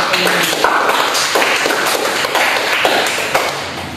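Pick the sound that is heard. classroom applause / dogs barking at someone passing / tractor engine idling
classroom applause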